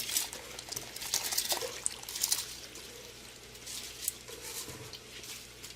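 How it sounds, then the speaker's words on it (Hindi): Rice tipped into a pot of boiling salted water spiced with cardamom, cloves, cumin and cinnamon for green chicken biryani, giving a soft patter and trickle with bubbling that fades to a gentle simmer. "नमक डालकर पानी को बॉईल कर लें। अब इसके अंदर डालेंगे चावल।"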